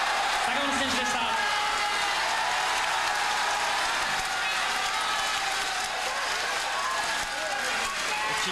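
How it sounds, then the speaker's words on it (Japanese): Large crowd cheering and roaring at a boxing match in Korakuen Hall, a sustained loud wash of voices across the whole stretch with some clapping mixed in. "引きの大歓声です。"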